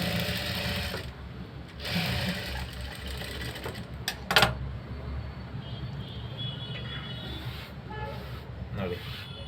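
A sewing machine stitches a frill onto a sleeve with a low, steady motor whir and needle rattle in short runs, close by, with a few sharp clicks and some handling noise.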